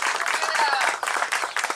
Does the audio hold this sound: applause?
yes